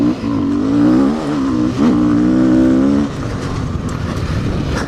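A motorcycle engine drones steadily while the bike is ridden, its pitch rising and falling through a few seconds of revving before it settles into a lower rumble along with wind and road noise.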